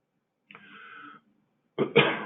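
A soft, muffled cough or throat sound is followed after a pause by a sharper, louder cough, both close and alone.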